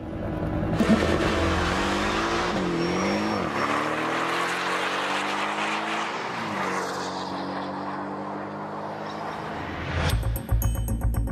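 A Tesla Model 3 and a sports car accelerate hard side by side; loud engines roar and rev, pitch rising through gear changes, with a brief tire squeal near the end.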